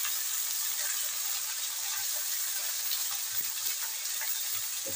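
Vegetables fry in a small kadhai over a wood-fired clay stove, giving a loud, steady close-up sizzle with faint scrapes and soft knocks from stirring throughout.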